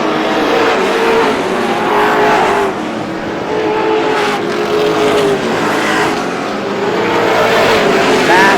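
Race cars roaring around Star Speedway during the GSPSS 100, a loud continuous engine drone with rising and falling pitch as cars pass, with a race commentator talking over it.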